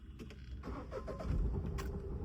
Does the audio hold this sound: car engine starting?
yes